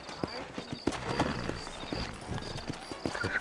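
Horse hooves clip-clop steadily in the Red Dead Redemption video game, set in New York with sturdy horses, a brisk rhythmic patter up close with occasional whinny-like calls and speech in the background.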